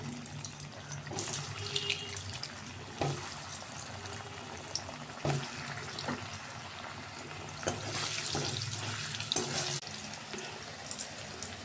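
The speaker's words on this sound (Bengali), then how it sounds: "এবার কড়াইয়ে তেল দিয়েছি, এবার এগুলোকে ভাজবো" Green banana kofta balls fry in oil in a wok, giving a soft, bubbling sizzle broken by scattered clicks and pops from handling. The sound is fairly faint and has no talk.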